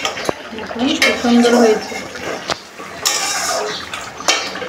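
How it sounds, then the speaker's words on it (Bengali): A lid comes off a pot of doi potol (pointed gourd in yogurt) on the stove. It gives a sharp metallic clank, then rattles and scrapes through bubbling hiss, with a short spoken comment partway through. "বন্ধুরা এখন আমি ঢাকাটা খুলে নিব"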